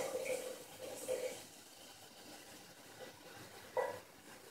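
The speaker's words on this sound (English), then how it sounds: "Return the hot water into the iron pot." Hot water poured from a bamboo-style ladle back into an iron kettle during a thin-tea preparation, a soft, quiet splash and trickle in two short bursts with a faint final drip, nearly silent in between.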